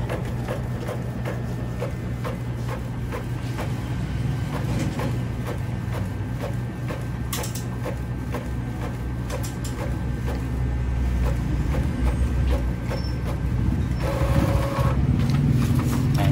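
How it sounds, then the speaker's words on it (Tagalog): An Epson L5190 inkjet printer running a test page, a steady mechanical whir and hum with rhythmic feed clicks and a shift in motor tone near the end, heard alone without speech. "Ayan, na-print test na natin."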